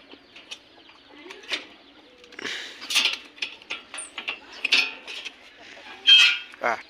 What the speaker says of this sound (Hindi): और ये देखो मुर्गे पूरे